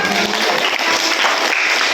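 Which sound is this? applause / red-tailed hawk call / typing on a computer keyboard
applause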